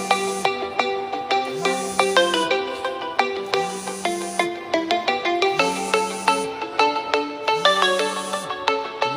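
A phone ringtone plays a bright, repeating electronic melody of plucked-sounding notes with a recurring low tone, loud and steady throughout, with no voices.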